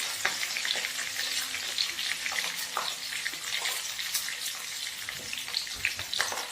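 Cumin, mustard seeds, curry leaves and garlic sizzle steadily in hot oil for tomato chutney, a dense continuous crackle with scattered sharp pops throughout, close and fairly loud with no talking.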